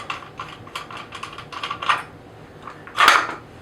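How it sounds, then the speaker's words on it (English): Small metallic clicks and taps from the magazine cap of a Benelli Nova pump-action shotgun being threaded off, a quick irregular series ending in a louder close clatter, with no talk. "simply thread this cap off"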